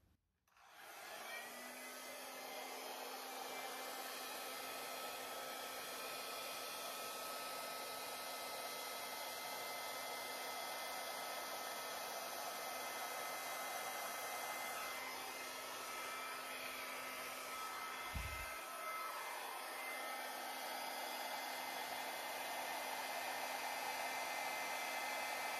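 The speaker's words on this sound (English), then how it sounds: "I'm gonna use my flower hairdryer" A flower-shaped hair dryer blows steadily on an acrylic pour painting, a loud continuous whoosh with a constant motor hum that runs unbroken for the full length with no talking.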